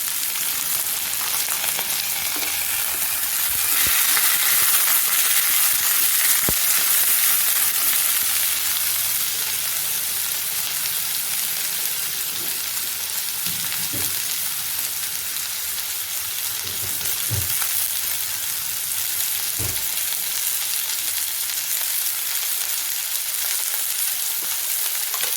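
Steady, loud sizzling of onion and drumstick pieces frying in a pan, with occasional stirring clinks, no voices.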